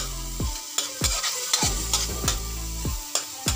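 Sliced onion sautés in a pan for ginisang munggo, a Filipino mung bean dish. A spoon scrapes the pan in regular strokes over a steady close sizzle, with no talking.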